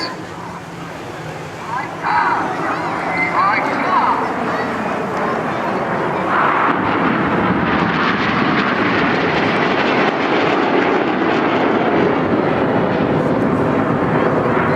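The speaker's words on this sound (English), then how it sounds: "7 aircraft pulling to the vertical, the synchro pair staying low in the centenary split" Seven Red Arrows jet aircraft at the Bournemouth Air Festival pulling to the vertical, a loud, sustained jet roar that swells and holds, with a commentator speaking over it throughout.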